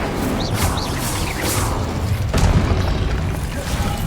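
An Incendio fire spell is cast in Hogwarts Legacy, heard as a dense, loud roaring whoosh with crackling bursts and a heavier thump about halfway through, continuous for several seconds.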